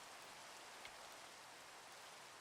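Rain pours in Minecraft, a constant soft hiss of drops that stays level and uninterrupted, with no one talking.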